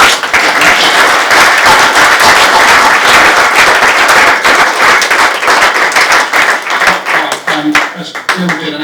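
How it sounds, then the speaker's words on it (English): Loud audience applause for panel speakers at a retail panel discussion, dense vigorous clapping that thins out near the end into scattered claps and a voice or two. "'d like to thank Eric, Gerard and Herculano, if you give them a round of applause."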